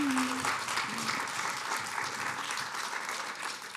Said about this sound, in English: That applause is for you,